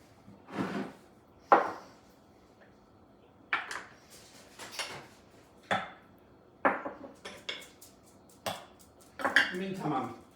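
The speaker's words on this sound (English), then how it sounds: "So I'm going to measure out the flour." Flour being measured out for banana nut bread in a home kitchen: scattered scoop scrapes, soft taps and clinks of a measuring cup against a bowl and utensils, spaced bursts close by over a quiet background.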